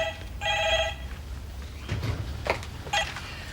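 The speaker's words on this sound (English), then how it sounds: "For heaven's sake, Kim, didn't you hear the phone ringing?" A landline telephone bell rings in a household, a single clear burst of ringing followed by fainter repeated rings, with quiet room noise and no speech.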